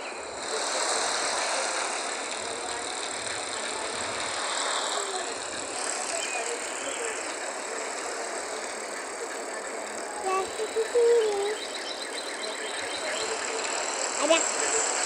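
A motorbike engine in a video game drones steadily throughout at moderate loudness, with a couple of small revving swells near the end and faint voices in the background.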